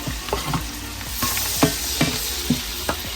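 Onion sautéing in a pan for ham and bean soup sizzles steadily, with a spoon stirring in short scraping strokes at a rough, uneven rhythm, close and fairly quiet.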